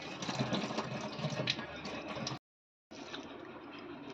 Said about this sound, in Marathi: आता याचं पाणी काढून जे असे कोवळे असतात ना ते तरंगून तेही निघून जातात